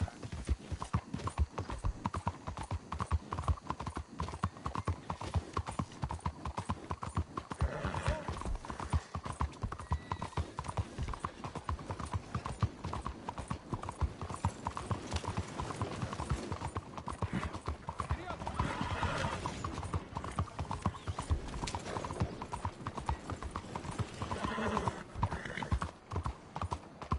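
Steady, continuous clip-clop of horse hooves at a walking pace in Red Dead Redemption 2, with an occasional whinny and other background sounds mixed in.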